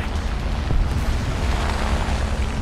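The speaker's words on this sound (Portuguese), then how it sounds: "esse canhão é muito bom" The cannon of a T95 tank firing in the War Thunder video game, a heavy booming blast that trails into a loud, sustained low rumble with no voices.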